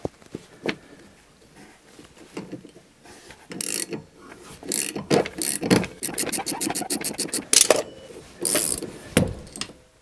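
A ratchet wrench turns the nut off a rusty shock absorber while the rod is held still, giving a run of close, fast clicking bursts that grow denser and louder through the middle and end of the clip, with no talk.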